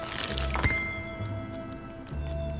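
Water dripping in the video game Luigi's Mansion 3: a splashy drip and a few light droplet ticks over steady game music and ambience, with no talking.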